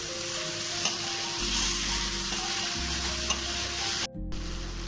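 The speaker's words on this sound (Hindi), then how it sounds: "और यहीं पे डालेंगे फ्राई किया हुआ पनीर। तो चलिए थोड़ी देर अच्छे से एकदम हाई फ्लेम पर भून लेते हैं।" Fried paneer and vegetables sizzling and being stirred in a pan over a high flame for a Kolkata street-style kathi roll, a steady loud crackle with scraping stirs and a brief break near the end.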